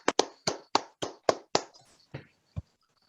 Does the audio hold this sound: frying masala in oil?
no